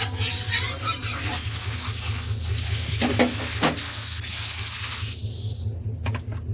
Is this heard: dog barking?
no